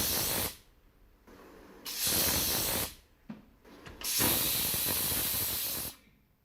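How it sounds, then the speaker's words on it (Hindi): Two loud bursts of pressure cooker whistle, hissing steam blasts separated by quieter gaps, with a brief short puff between them. "कुकर की सीटी पे कहाँ डांस होता है यार"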